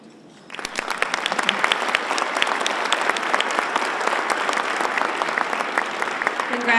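Luncheon audience breaks into strong, sustained applause after a short quiet start, dense clapping with a few sharper individual claps standing out, continuing to the end.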